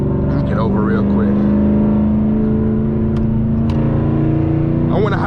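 A Dodge Challenger muscle car engine rumbles loud and close in a sustained, steady rev, a deep throaty drone that holds for several seconds with faint chirps on top.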